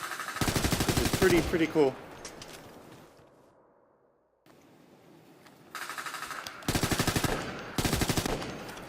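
Automatic rifle fire at the in-game firing range in Ghost Recon, several loud rapid bursts with pauses between them and a short quiet stretch in the middle; someone talks briefly over the first burst.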